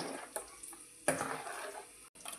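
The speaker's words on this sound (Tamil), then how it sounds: "கொஞ்சம் வாட்டர் ஆட் பண்ணிக்கோங்க." Water is poured into ground masala and curd, a brief close splash and trickle rising and falling over a couple of seconds, with no talking.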